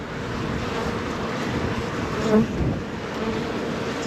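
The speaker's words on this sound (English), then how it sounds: "Look at the bees in here." Dense, steady buzzing of many bees in a hive close by, a continuous droning hum with a brief swell in the middle.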